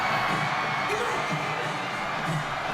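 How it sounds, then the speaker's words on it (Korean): Citizens cheer in a crowd at Busan Station as an expo inspection delegation is welcomed, a continuous wash of shouting and whoops with a few higher voices rising above, steady and fairly loud throughout. "실사단을 환영하는 시민들의 함성이 울려 퍼집니다"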